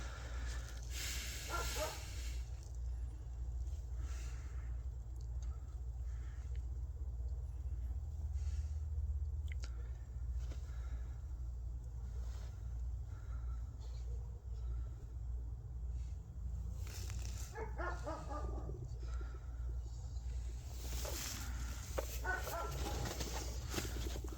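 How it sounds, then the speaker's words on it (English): Several dogs bark at an outdoor winter campsite, with short bursts of barking near the start, in the middle and toward the end, over a constant low background hum. "Don't mind the dogs. They just bark nonstop all the time."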